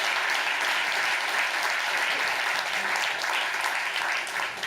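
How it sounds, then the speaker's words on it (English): Sustained, loud audience applause fills a speech hall, a continuous wash of many hands clapping with no talking over it. "You can clap for that"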